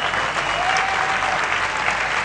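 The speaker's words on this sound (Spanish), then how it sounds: "Dale un fuerte aplauso al rey." A church audience applauds, a dense, steady burst of clapping from a large crowd that holds at full strength throughout.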